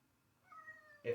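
A cat gives a single short meow, fairly faint and close, followed by a brief thump.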